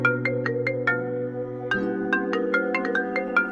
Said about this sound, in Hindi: आईजी सर का फोन।